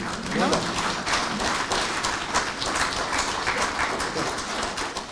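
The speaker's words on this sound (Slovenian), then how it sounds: "to pa si zasluži aplavz" Audience applause at a Slovenian public conversation event, steady dense clapping throughout, moderately loud and sustained, with some voices mixed in.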